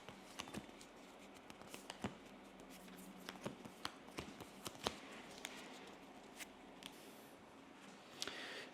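Soft, quick card-draw clicks and swishes from a seven-card hand in the Slay the Spire deck-building game, scattered irregularly across a quiet background with a slightly busier flurry near the end.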